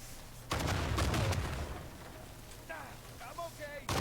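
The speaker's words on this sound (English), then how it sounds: "and then I'm going to start shooting" Gunfire in Uncharted 4: A Thief's End, with loud broadband bursts of shots clustered early, then quieter game sounds and faint voice-like tones, and another loud burst at the end.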